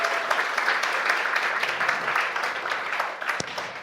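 Church congregation of Sindongtan Global Village Church members at a school vision-sharing gathering fills the room with steady, dense applause, close and continuous throughout, with scattered cheers mixed in.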